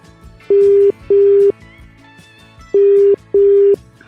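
Four long, steady ringback tones from a telephone call, arriving in two pairs with a pause between them over a quiet line.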